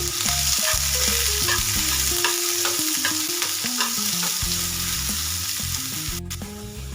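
Chopped medium onion stirred by hand into a wet wheat-flour and semolina batter for homemade dhirde, a steady soft squelching scrape running throughout, with a melodic tune playing underneath.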